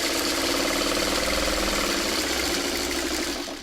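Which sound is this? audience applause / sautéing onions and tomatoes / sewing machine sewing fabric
sewing machine sewing fabric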